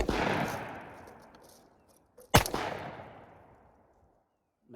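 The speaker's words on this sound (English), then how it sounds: "I'm gonna go ahead and I'll shoot this close one right here again." 12 gauge double barrel shotgun fired outdoors over a field: two loud, sharp shots a couple of seconds apart, each trailing off in a long echo, with a faint click near the end.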